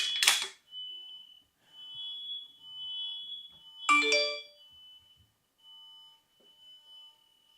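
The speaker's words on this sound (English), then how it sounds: "I don't know why the fire alarm goes off." Electronic alarm beeps: a sharp burst at the start and another around four seconds, with a steady high tone sounding on and off between them.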